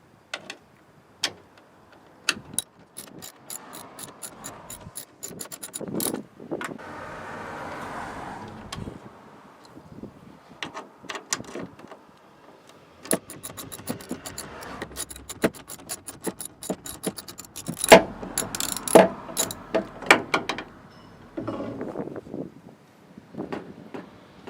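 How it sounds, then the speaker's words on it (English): A socket wrench ratchets to unbolt car headlight bolts, producing close, rapid clicking in bursts with pauses, plus occasional metallic handling sounds. "you're gonna need a socket wrench, and then you're gonna unbolt these two bolts"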